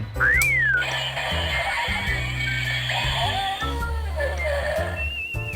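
A DX Dino Brace Abaranger toy playing its electronic roar effect, a shrill, warbling synthetic cry sweeping up and down over buzzy, stepped tones, loud and close.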